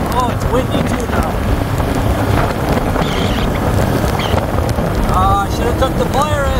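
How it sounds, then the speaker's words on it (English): Wind gusting outdoors over a rural Missouri Ozarks farm food plot during rain, a loud steady rumbling buffet across the microphone with voices talking over it. "Oh, it's windy too now."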